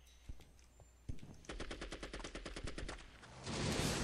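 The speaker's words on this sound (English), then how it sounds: "Still curious who the fuck is shooting." Gunfire in the video game Counter-Strike: Condition Zero: a rapid, evenly spaced burst of automatic shots lasting a couple of seconds, followed by a louder, noisier wash of sound.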